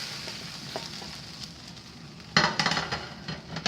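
Meat and vegetables sizzling in a pan, a faint frying hiss that turns into louder bursts of stirring and scraping with clinks of utensil on metal in the second half.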